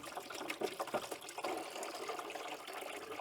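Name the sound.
water flowing through Renault Clio engine during PCV clean-out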